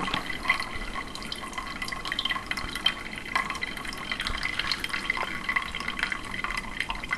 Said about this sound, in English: That's a pump right there, pumping the water through.